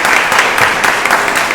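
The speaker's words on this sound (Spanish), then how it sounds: "un fuerte aplauso para él" Brief burst of loud, dense applause from an audience honoring a speaker at an engineering talk on the Antioquia railway, close and continuous with no pauses.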